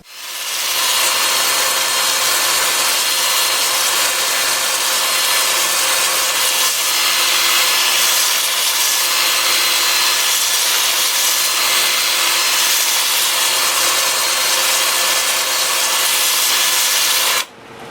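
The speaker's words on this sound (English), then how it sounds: "I have the lathe spinning in reverse at 275 RPM. I'm starting at 80 grit" A loud, continuous abrasive hiss of 80-grit sandpaper against an end-grain mesquite bowl spinning in reverse on a lathe at 275 RPM, steady and close throughout, cutting off abruptly at the end.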